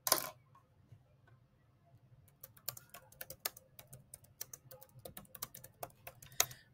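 Typing on a computer keyboard while writing code, a quiet close patter of key clicks that starts after a soft opening knock and grows into a brisk, irregular run of taps.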